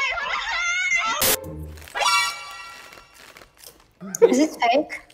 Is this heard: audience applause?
no